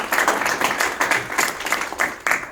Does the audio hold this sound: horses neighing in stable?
no